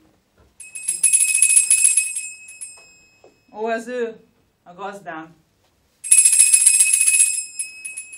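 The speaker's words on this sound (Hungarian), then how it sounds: "Ahogy a csengőt rázza, abból tudom, milyen hangulatban van ma." A hand bell shaken on stage during an amateur theatre play rings in two bright, sustained bursts at the start and end. A short spoken line comes in the gap between them.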